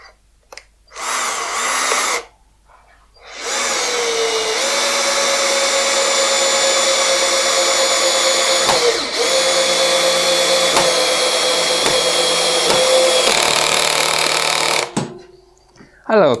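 A Makita HP457DWE drill-driver, set to first gear with the clutch at 14, drives a 4x120 screw with a loud sustained motor whine that rises and holds steady until the screw seats, with brief speech before it starts.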